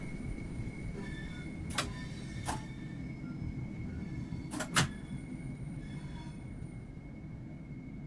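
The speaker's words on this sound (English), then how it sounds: "Begin applying a small amount of braking force to bring the train to a gentle stop." A high-speed train in Train Sim World 3 rumbles steadily while braking to a gentle stop, with a constant high whine and a few sharp metallic clanks and squeals from the wheels.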